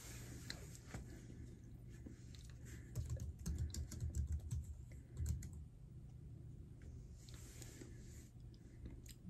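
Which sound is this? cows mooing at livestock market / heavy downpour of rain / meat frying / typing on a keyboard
typing on a keyboard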